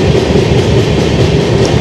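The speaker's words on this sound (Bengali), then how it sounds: "আমাদের ট্রেন এখন ক্রস করছে চম্পাশাড়ির" Train rolling through Champasari forest after crossing the Mahananda river bridge, a loud, steady rumble of wheels and carriages with a faint clickety-clack rhythm, close and continuous throughout.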